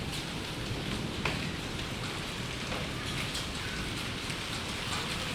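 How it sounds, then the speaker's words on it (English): Dense, steady rain pours down on a garden in Pathankot with hail mixed in, a continuous loud hiss of drops and pellets striking wet ground, uniform and close throughout with no talking. "Many hails are covered by the water of rain and here's hail"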